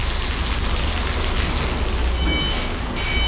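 Heavy rain pouring down while a truck is loaded with pallets in Amorebieta: a dense, steady roar of falling water drums on nearby surfaces, loud and close, with no voices.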